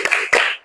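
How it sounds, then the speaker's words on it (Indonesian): Children in a classroom do a thumb-clapping routine, two crisp claps close by, the second followed by a short ringing tail. "Tepuk jempol."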